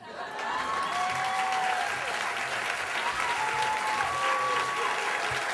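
Steady audience applause after a storytelling performance, a dense sustained wash of many hands clapping at close range, with faint whistles and cheers rising over it.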